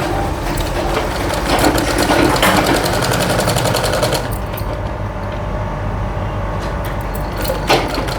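A sewing machine runs steadily, stitching folded piping with a double presser foot for boutique tailoring, giving a loud, continuous mechanical whir with slight changes in pace.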